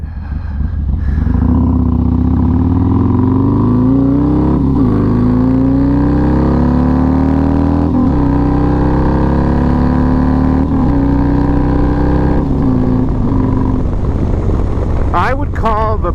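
A motorcycle fitted with Bassani exhaust pipes and an S&S 475 cam revs repeatedly, its deep loud exhaust note climbing and dropping through several throttle blips, close up and steady.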